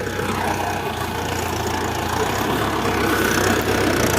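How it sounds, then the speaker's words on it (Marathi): A tractor engine idles nearby on farm ground, a steady low mechanical drone that holds constant and fairly loud throughout without any talking. "चला ट्रॅक्टर आला आहे आता मागे दिसतो का"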